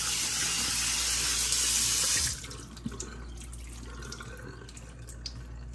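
Hot tap water runs steadily into a kitchen sink while rinsing cooked penne pasta, a loud continuous rush for about two seconds that then cuts off, leaving faint drips and light clatter.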